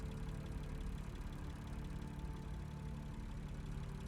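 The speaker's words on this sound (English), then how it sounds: "Judging by the engine noise and the smell, there are diesel generators in this shed." Diesel generators run inside a shed in the video game Lost Horizon, a steady low engine hum that stays even and fairly faint throughout, with no talk.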